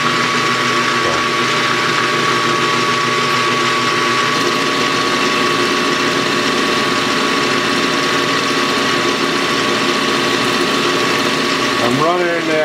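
A small model engine idles steadily at about 800 RPM, a continuous buzzing drone with a strong whine held throughout, loud and close; near the end a brief rising and falling tone sweeps over the running engine.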